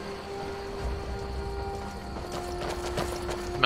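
A horse's hooves clip-clop steadily in Skyrim, a soft, even rhythm of footfalls under constant background ambience and music, with no one talking.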